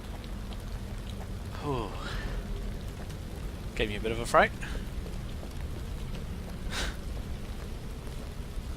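Steady rain hiss runs throughout a horror video game set in Land Of Pain, with a person briefly reacting in a startled voice over it.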